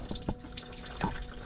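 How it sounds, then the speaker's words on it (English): Coolant draining from a Mercedes CLS55 engine during mount and bushing work, a faint trickle with a few soft drips over low background noise. "So all the coolant's gonna come out."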